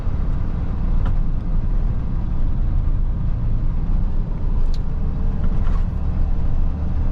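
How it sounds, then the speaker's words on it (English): Rush hour road traffic heard from inside a moving vehicle, a loud steady low rumble of engine and tyre noise with faint passing vehicles and occasional light clicks, no talk. "there's just too many people driving to work"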